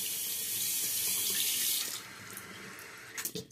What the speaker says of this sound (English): Get that brush nice and wet.